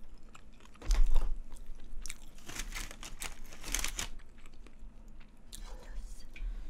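Close, wet chewing of gambas, garlic shrimp cooked in oil, with soft bites and mouth clicks running steadily, one louder crunchy burst near the start, and low background murmur throughout.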